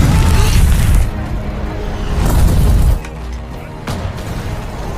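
Explosions from a Nazi fighter plane air attack in a war film: heavy, booming blasts with rumbling low end, a loud surge, then a sudden drop to quieter debris and sharp bursts.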